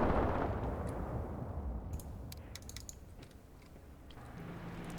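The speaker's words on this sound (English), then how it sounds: "Damn it, enemy artillery strike." An enemy artillery strike in the wargame Graviteam Tactics: a deep rumbling boom fades into distant, scattered crackling impacts and clicks, fairly faint overall with no talking.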